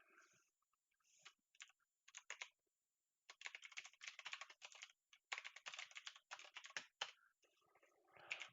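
Someone types on a computer keyboard in quick, irregular bursts of clicks with short pauses between, close and fairly quiet, with no voices.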